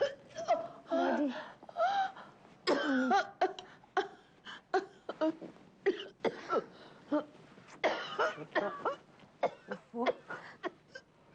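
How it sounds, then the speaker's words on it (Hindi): Someone indoors coughs in repeated close-up fits, with harsh bursts separated by brief gasping breaths and throat-clearing over about eleven seconds. "ये खांसी"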